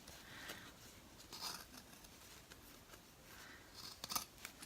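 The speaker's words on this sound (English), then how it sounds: "Keep cutting away." Scissors snip through felt on an in-the-hoop embroidered lined zipper bag, with a few quiet, close cuts spread across the stretch and a sharper burst of snipping near the end, alone with no talk.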